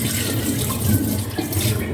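Excess cooking water is poured off rice in a rice cooker pot, a steady close splashing stream running without pause and without talk.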